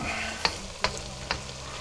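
Chinese stir fry sizzling steadily in a pan, with three sharp scrapes of a utensil stirring at regular intervals, close and clear.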